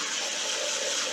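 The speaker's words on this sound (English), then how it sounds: "now we're just going to run some hot water over this chicken." Hot tap water runs steadily over five cans of drained chicken in a colander, a continuous close splashing rush.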